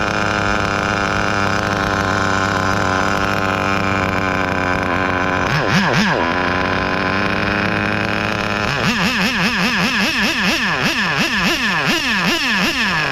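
Kyosho V-One RR nitro RC car with an OS 12TR engine running close by: a loud, high, buzzing idle, a brief rev burst, then rapid repeated throttle blips rising and falling.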